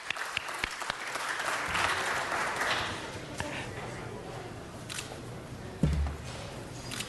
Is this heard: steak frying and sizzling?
no